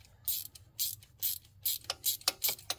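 A ratchet with an extension backs out bolts on the engine of a 2012 GMC Sierra during a cam and valvetrain job. Close, quiet bursts of rapid ratchet clicking repeat in short uneven strokes, about eight in under three seconds.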